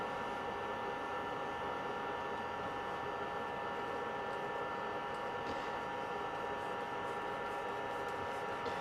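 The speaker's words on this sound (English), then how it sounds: "now I've got the little screw threaded insert, sorry. So I'll literally just wind that in." A small threaded insert being wound by hand into a handle for a coffee tamper made from skateboards, a faint steady mechanical ticking and ratcheting over a constant workshop hum, no talking.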